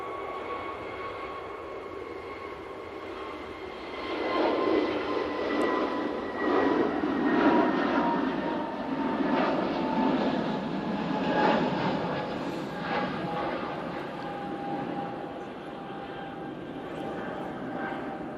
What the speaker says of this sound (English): SAS on the roll in the new livery